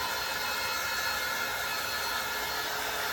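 A heat tool blows continuously over chalk paste on fabric, a steady close-up whooshing hiss with no break or change in level.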